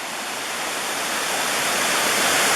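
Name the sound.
Deep Creek waterfall flowing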